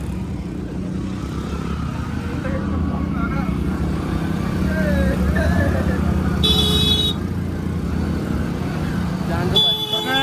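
Motorcycles ride along a mountain road to Pulna village with a passenger on the back, their engines droning continuously and loudly under wind and traffic noise, with a couple of short horn toots.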